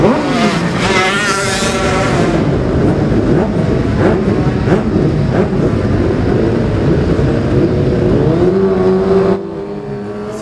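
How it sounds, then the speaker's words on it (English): Classic TT Superbike racing motorcycles roar past at full throttle, engines loud and close with a rising and falling pitch as they sweep by, leaving a lower steady rumble at the end. "The bikes with white plates and black numbers are of course the Superbike Classic TT machines."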